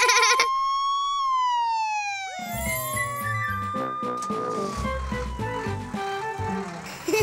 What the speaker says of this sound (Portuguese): esta sirene é muito, muito alta. É para dizer a todos os carros para encostarem e deixarem passar o carro de bombeiros.